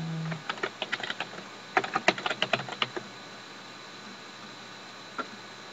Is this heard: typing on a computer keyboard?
yes